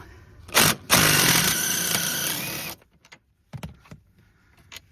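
A power driver whirring a screw out of the centre console of a Land Rover Defender 90 L663, a brief burst then a sustained loud, close buzz of about two seconds, followed by a few faint clicks and knocks.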